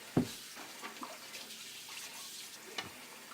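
A brief splash followed by soft running and dripping water as an object is rinsed, fairly quiet and close, with faint trickles continuing.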